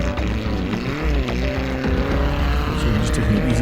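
Modified off-road racing vehicle in full flight on a dirt race course, a loud, steady engine roar with shifting pitch as it passes close by.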